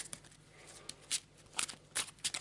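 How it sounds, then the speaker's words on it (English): Arkham Horror: The Dunwich Horror cards are roughly shuffled up close, producing soft rustling and a handful of sharper papery slaps at uneven intervals, quiet overall with no voices. "I have given these a good shuffle."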